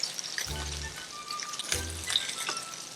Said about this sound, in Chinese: 这个鱼我们就是让它表皮煎到有点刚刚那种焦黄色